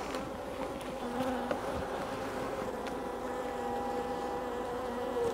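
Honeybees swarm around an opened hive during an inspection of the super, a steady close buzzing drone that continues unbroken for several seconds, with no voices.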